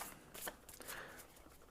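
Tarot cards are shuffled briefly and softly nearby, a quick flurry of riffling card flutters.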